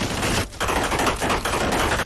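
Sustained fully automatic weapon fire in an indie zombie video game, dense rapid bursts that are loud and close, broken by two short pauses, with no voices.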